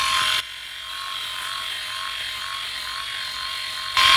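Philips i9000 electric shaver running steadily close up while shaving coarse facial hair, a continuous motor buzz that dips slightly quieter after the first half second and rises again near the end.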